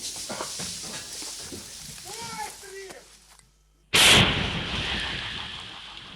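Voices and background noise, then a sudden silence broken by one massive, sharp blast from a self-propelled artillery gun that rolls on into a long, loud rumbling decay.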